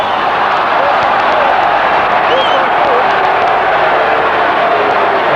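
A rugby league stadium crowd from a 1997 Super League match between the Cowboys and Sharks keeps up a loud, steady roar throughout, with a few faint whistles and a commentator talking over it.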